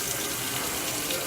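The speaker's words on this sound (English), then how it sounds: "turn your nozzle over the soap dispenser and turn on the hot water." Hot water running from a faucet into a three-compartment commercial sink, a steady close hiss and splash of flowing water, even and continuous.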